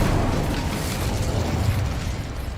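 In Hogwarts Legacy, the Incendio fire spell is cast as a continuous roaring, crackling whoosh of flame with a heavy low rumble, loud and steady throughout with no voices.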